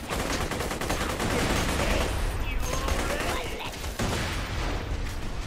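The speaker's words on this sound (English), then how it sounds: "now who's shooting at me?" Sustained gunfire fills the Borderlands 2 video game, dense, loud and continuous volleys of shots with in-game noise layered underneath.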